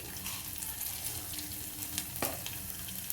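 Mustard seeds sizzling in hot oil while tempering Telangana-style pappu charu, a steady crackling fry with a few sharper pops, close and alone with no talk.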